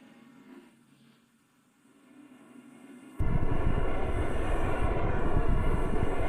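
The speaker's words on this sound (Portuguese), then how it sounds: "Agora é a vez do Sam na bicicleta Sterling." A Stirling engine powered bicycle starts up abruptly, settling into a loud, steady, dense mechanical roar that continues without pause after a quieter stretch.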